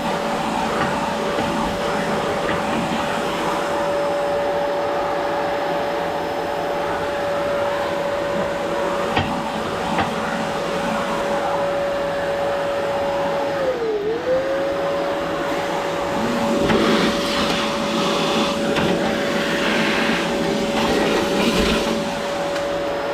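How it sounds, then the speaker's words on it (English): A vacuum cleaner drones steadily with a constant whine, its pitch dipping briefly once before recovering, then a rougher rush as it sucks across something. "I might have to vacuum up quite a few times on the same thing"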